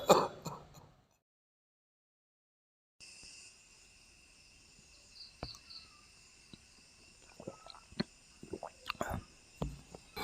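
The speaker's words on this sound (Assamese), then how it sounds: "কাহটোৱে বৰ বেয়াকৈ ধৰিবলৈ লৈছেহে।" A person clearing the throat and coughing in an Assamese short film scene: a brief rough burst at the start, then silence, then a series of scattered close throat and cough sounds over a faint insect-like hum.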